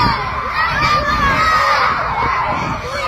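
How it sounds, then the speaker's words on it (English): Children scream and shout all at once on a bus, a dense, continuous, loud chorus of high shrieking voices with no break, heard from playback of a recorded clip. "Look at these kids screaming."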